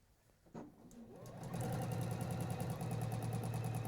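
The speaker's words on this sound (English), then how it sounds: "once you've made that transition into a Juki NX7, it'd be pretty hard to go back when you've got such precision in your sewing" A Juki NX7 computerized sewing machine starts up after a faint click and runs at a steady, fast, even stitching rhythm, close and continuous, with no talk over it.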